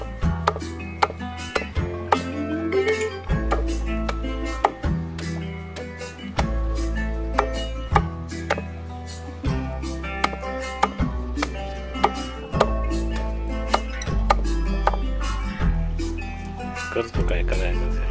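Leaves being chopped finely outdoors to make fishing bait, a fast, regular series of blade strikes against a surface repeating throughout, with people talking over the chopping.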